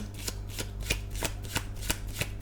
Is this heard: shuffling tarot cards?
yes